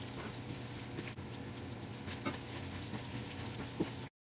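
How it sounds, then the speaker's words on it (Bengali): Dried loitta fish (shutki) frying in oil in a pan while being stirred, a steady close sizzle and crackle with faint scraping and occasional small pops, no talking. "শুটকিগুলোকে প্রায় 8 থেকে 10 মিনিটের মতো আমি তেলের মধ্যে ভেজে নেওয়ার পরে"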